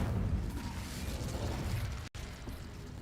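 Incendio fire spell cast in the Hogwarts Legacy video game: a sustained roaring, crackling burst of flame with a brief cut partway through, then the rumble continues.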